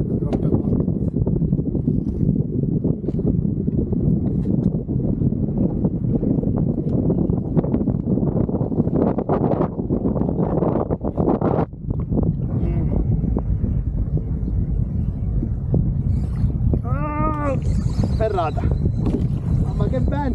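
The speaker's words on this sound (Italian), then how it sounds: "Mamma che vento!" Strong wind roars into the microphone throughout while kayak fishing at sea, a loud continuous rumble masking most other sound, with a voice speaking underneath and some splashing and squeaky reel-like sounds later on.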